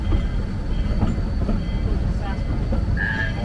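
A Georgetown Loop train rumbles steadily along the tracks, a continuous low roar with faint clatter and a brief high squeal near the end.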